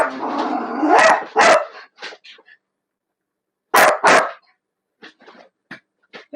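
A dog barks in sharp, loud bursts, a few close together, then trails off into softer yips and whimpers, with quiet pauses between outbursts.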